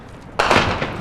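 A sudden loud blast from a weapon hit lands close by during street fighting, a sharp onset followed by a sustained roar that fades slowly over the next half second.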